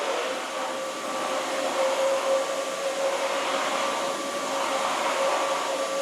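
A Roborock F25 Ace electric wet mop runs with a steady, loud motor whine and whirring hum, a constant drone with a clear tonal line that holds evenly for the whole stretch, with no voices.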